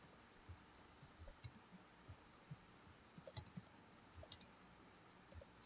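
Faint, irregular clicks of a computer keyboard as program code is typed, scattered keystrokes in short clusters against a quiet room.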